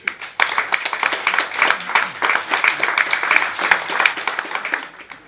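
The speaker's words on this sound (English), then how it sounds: "will you give her a big round of applause?" An audience at a cultural evening claps for several seconds, a steady, fairly close rattle of many hands that starts sharply and fades out at the end, with light voices underneath.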